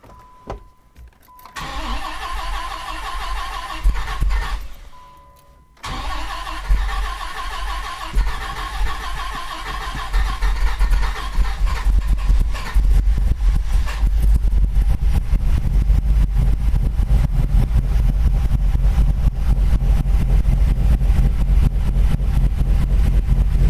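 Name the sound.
1998 Dodge Viper engine starting up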